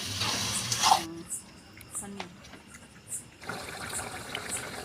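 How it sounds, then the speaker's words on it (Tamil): A tumbler of water poured into chicken varuval in a pan, heard as a short splashing gush in the first second, then a quieter stretch of faint clinks and low hiss. "1 டம்ளர் தண்ணி சேர்த்திக்கலாங்க."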